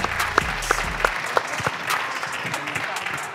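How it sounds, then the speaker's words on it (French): Audience applause at an inclusion-through-sport award ceremony, a burst of clapping from a crowd that fades over a few seconds, with some voices audible over it. "Vos applaudissements pour Sandra Belkacem."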